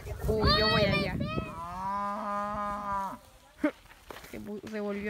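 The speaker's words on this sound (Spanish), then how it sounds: "Ahí están como unas tipo vacas." Cows on a ranch lowing in several long, loud moos, one after another, with a short quiet gap before the last one begins.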